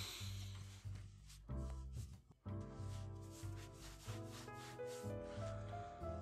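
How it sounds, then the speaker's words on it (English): A hand rubbing across fabric on a person's back in an ASMR roleplay, close and soft, with repeated scratchy strokes and brief pauses between rubs, no voice. "Let me rub your back."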